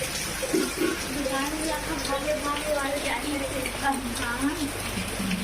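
Steady hiss of heavy rain falling, with voices talking over it throughout.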